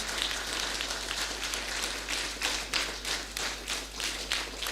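A church congregation at a Kikuyu Sunday service applauds parents, a steady wash of many hands clapping with rhythmic bursts, moderately loud and continuous, with no speech over it.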